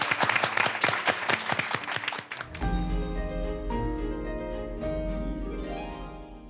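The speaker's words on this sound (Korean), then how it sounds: "응원의 박수 좀 보내드릴까요?" Audience applause from a crowd at a book-reading broadcast in Paju Book City, dense clapping for about two seconds, then giving way to sustained music.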